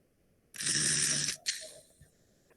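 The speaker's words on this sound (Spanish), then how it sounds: "fíjense cómo respira este pobre perro" A dog with obstructed breathing before surgery gives a rough, raspy snore, one long noisy inhale followed by a shorter wheezing gasp, close and alone in a quiet room.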